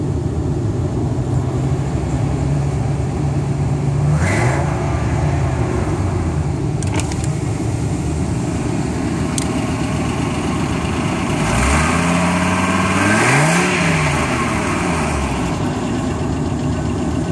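A Ford F-250 V10 pickup engine with an exhaust leak idles with a rough, rumbling exhaust, then revs up and settles back twice near the end.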